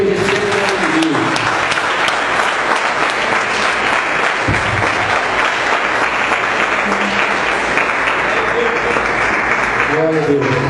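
A church congregation applauds steadily and loudly throughout, the dense clapping filling the room with voices and cheers mixed in beneath it.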